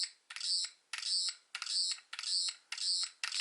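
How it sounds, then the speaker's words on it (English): A Thirteenth Doctor sonic screwdriver toy gives off six bright, buzzing electronic bursts, each about half a second long and separated by short gaps, close and clear with no talking. "when you actually press the button you get like a little click"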